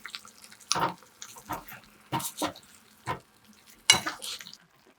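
A kohlrabi dish turned over in a pot after adding sesame oil: several soft scraping, stirring bursts at irregular intervals with light sizzling, close and fairly quiet.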